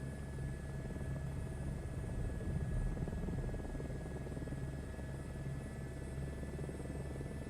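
A helicopter hovering near an airport helipad in Microsoft Flight Simulator 2024 on PlayStation 5 Pro, a continuous droning rotor and engine whine at steady loudness, unbroken and without voices.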